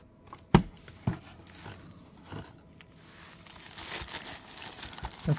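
A microphone is pulled from a small plastic Ziploc bag, giving crinkly rustling with a couple of sharp crackles early, then softer scraping and crumpling close by, with no talk.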